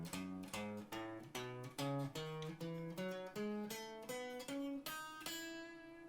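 Guitar plucks a one-octave major scale, one note at a time with slides between some positions, each note clear and close, ending on a sustained top note; no talking.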